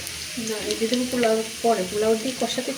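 Mutton biryani sizzles in a pot as ginger paste goes in, a continuous close frying hiss under overlapping voices talking throughout.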